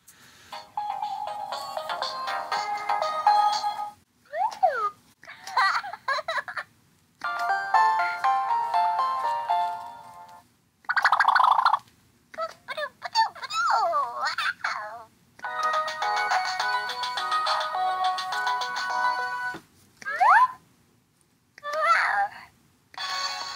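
Fisher-Price Halloween monster plush toy plays a run of electronic sounds: chirpy melodic tones, giggles and babbling toy voice clips in short bursts separated by brief pauses, close and clear with no one talking.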